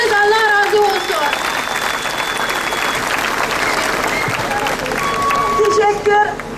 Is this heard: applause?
yes